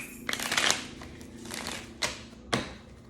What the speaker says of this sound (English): Make sure I shuffle that up good